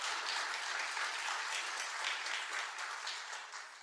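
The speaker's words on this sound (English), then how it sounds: "the audience here has just started clapping" A live audience at a health show breaks into sustained applause, a dense continuous wash of many hands clapping that holds steady throughout and tapers slightly at the end, with no talking over it.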